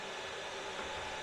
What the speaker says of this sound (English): Okay, time for the grinder.